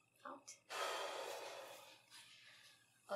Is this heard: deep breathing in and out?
yes